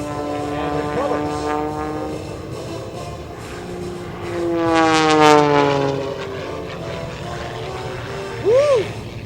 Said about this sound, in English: The aircraft is going to tumble.